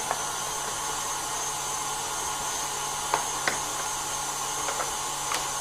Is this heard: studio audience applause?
no